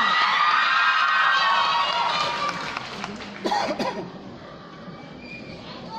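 A crowd at the FAMAS award ceremony cheers and shouts loudly and steadily, the roar easing a little toward the end with some scattered louder outbursts.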